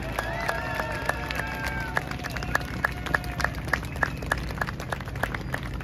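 Clapping from a crowd at an outdoor protest rally in France, sparse rhythmic hand claps standing out against a steady rumbling background, with a voice speaking over a loudspeaker.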